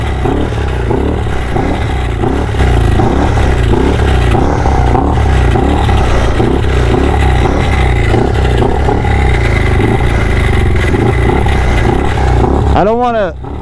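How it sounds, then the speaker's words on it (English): A motorcycle engine runs with a rapid, loud, pulsing idle that sits close by for most of the clip, ending in a brief rev, with people talking beneath it. "With the amazing help of this man, the bike started."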